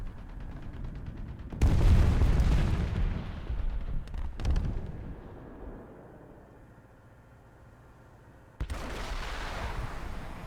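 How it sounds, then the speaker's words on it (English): Enemy rockets exploding in War Thunder, a heavy close blast rolling into rumbling debris with further sharp bursts, fading to a low hum before another loud explosion. "Oh, lots of enemy rockets."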